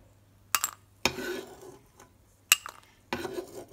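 A pan is handled on the stove while rava kesari is cooked, giving several sharp metallic clanks and scrapes spaced about a second apart, close and fairly loud, with no talking.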